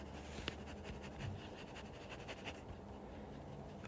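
A wet-nib fountain pen dipped in ink scratches softly across paper, a faint, steady close-up writing texture with a small tap near the start.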